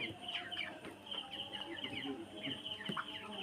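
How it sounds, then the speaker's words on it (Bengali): Hundreds of chickens cluck and squawk in a crowded poultry shop as birds are weighed for sale, producing repeated overlapping calls at moderate distance with faint background voices. "মুরগিগুলা বিক্রি করার জন্য এখান থেকে নিয়ে যাচ্ছে।"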